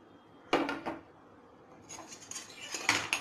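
Vermicelli is tipped into hot ghee in a pan and stirred, with a sudden rattling clatter of metal against the pan, a brief pause, then several scraping, clinking stirs, fairly close and with no speech.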